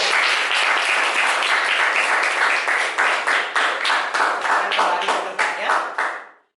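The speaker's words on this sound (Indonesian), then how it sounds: "beri tepuk tangan untuk kelompok yang di depan" Classroom applause for a student group at the front: many hands clapping together close by, a dense burst that comes in rhythmic pulses toward the end and then stops abruptly.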